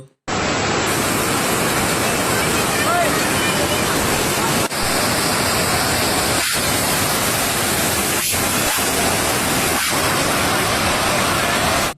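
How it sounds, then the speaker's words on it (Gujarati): Floodwater rushes like a river after heavy rain at Pavagadh: a loud, continuous broadband roar holds steady throughout, with a few faint knocks showing through the torrent. "નદીની જેમ પાણી વહેવા લાગ્યું છે"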